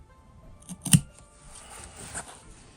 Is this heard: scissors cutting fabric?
yes